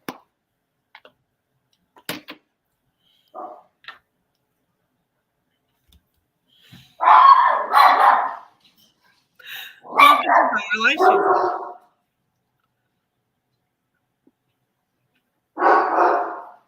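Small dog barking in short, sharp bursts from close by indoors, several yaps in two clusters and a final burst, with someone speaking briefly between them.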